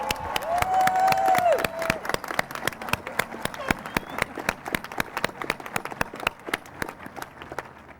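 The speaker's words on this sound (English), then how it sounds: "let's give them a big round of applause." A graduation audience at a high school ceremony breaks into steady applause, many hands clapping in a dense, sustained patter that carries on for several seconds, with a brief voice rising over the start.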